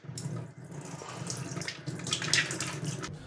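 Water runs steadily from a tap while fish are washed in a sink, a continuous close splashing stream with no talk.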